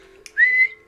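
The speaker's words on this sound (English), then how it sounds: "I need to blow my whistle." One short, bright whistle blast lasts about a third of a second, standing out clearly over a faint steady hum with no talking.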